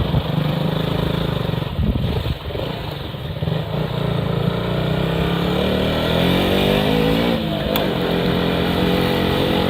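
KTM Duke 200 motorcycle engine while riding on a rough road, a steady close droning hum with shifting pitch as it revs and accelerates, running continuously throughout.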